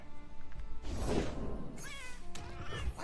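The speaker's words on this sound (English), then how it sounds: "It's a cat and something that says quite right." A cat's meow voice line plays during a Legends of Runeterra card match: one clear, drawn-out meow up close, followed by a shorter rising call, with faint game thumps beneath.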